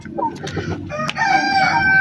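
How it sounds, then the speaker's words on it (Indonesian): Chickens in a free-range backyard pen, about two meters long, cluck while a rooster crows loudly and close, its long harmonic call rising and holding over the last second. "bisa dilihat ini saya sedang mengumbar ayam saya si Rembo"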